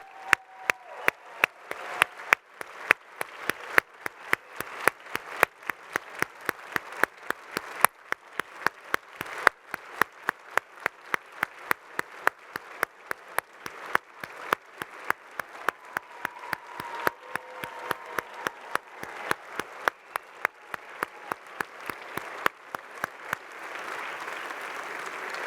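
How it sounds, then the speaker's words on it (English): Sustained applause from a dinner audience at a space technology hall of fame banquet, dense rapid clapping holding steady for about twenty-five seconds in a large hall. "Let's give a round of applause to the entire Space Foundation team."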